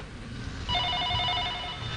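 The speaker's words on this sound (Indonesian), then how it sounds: "jika ada telepon mungkin langsung aja ya, supaya kita bisa mendengarkan" A telephone rings during an outdoor radio dialogue broadcast about drugs, entering partway through as a faint steady electronic trill over a low background murmur.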